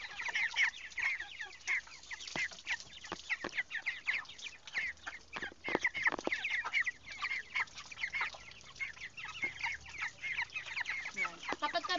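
Broiler chickens about three weeks old cluck and chatter steadily in a coop on a hot morning, many birds close by with a dense, continuous clucking throughout.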